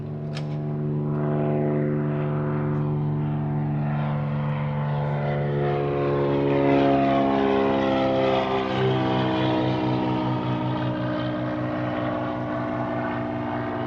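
A Cirrus propeller airplane taxis out at an airport, its steady engine drone loud and close, with strong harmonic tones that shift in pitch as it moves past, continuous for the whole stretch.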